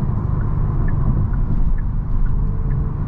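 Tuned 2023 Genesis G70 turbo engine making about 500 lb-ft of torque, its turbo whoosh and flutter heard as a steady, close engine and road rumble with faint higher chirps recurring over three seconds, without voices.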